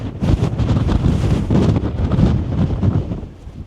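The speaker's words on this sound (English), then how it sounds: "It's very windy up here, isn't it?" Strong gusting wind on a windswept clifftop buffets the microphone in a continuous loud roar, rising and easing slightly without pause.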